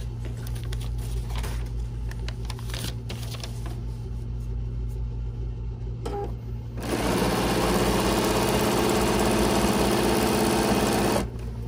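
A sewing machine stitching quilt block pieces, holding a steady low mechanical hum before breaking into a loud, continuous rapid stitching run for several seconds, then easing back to the hum.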